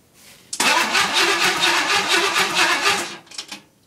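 Car engine cranking over on the starter after its primary ignition circuit was wired, a loud close rhythmic churning lasting about two and a half seconds, then a brief second crank before stopping.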